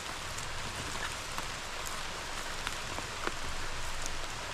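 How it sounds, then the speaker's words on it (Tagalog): Steady rain falls on a surface outdoors near a waterside catch, a dense even hiss with scattered louder drops and no talk. "Ay umulan na po."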